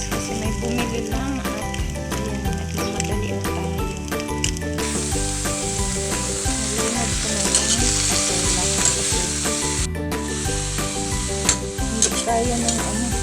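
Vegetables sizzle and fry in a pan, a loud steady hiss broken by scraping stirring strokes, close up with no talking.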